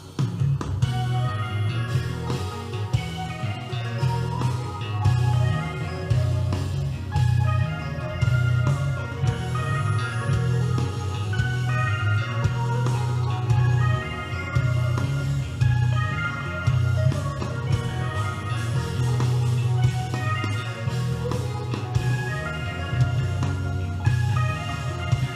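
An odd-meter band arrangement plays throughout, with a synth line running over steady drums that accent both the quarter-note pulse and a short-long pattern, full and continuous with no talking.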